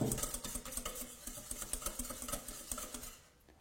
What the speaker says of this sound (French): En tapant légèrement sur le tamis, cela fait tomber la farine.